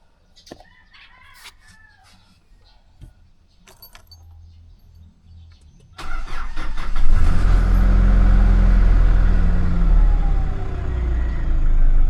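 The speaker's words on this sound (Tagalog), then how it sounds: "Medyo hirap na siyang umandar. Kailangan kong patakbuhin." An old vehicle's engine, hard to start after sitting in a garage, is silent at first amid distant rooster crows and small clinks, then roars into a loud, rough, uneven idle that keeps running close by.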